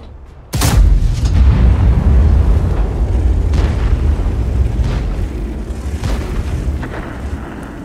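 A single heavy cannon shot from an SDP wz 66 Grom tank destroyer in World of Tanks: one sudden loud boom followed by a long, rolling low rumble that slowly fades.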